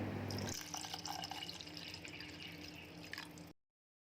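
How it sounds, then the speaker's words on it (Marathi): Water poured from a glass into a bowl of curd in a short splashing stream that trails off into drips, close and fairly quiet, then silence. "मी ह्याच्यामध्ये एक ग्लास पाणी ॲड करते"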